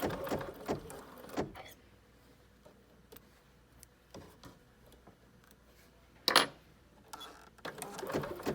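An embroidery machine stitches quietly in short bursts, with faint mechanical ticking and clatter between sharper handling clicks and knocks. It is close and soft, with no voices.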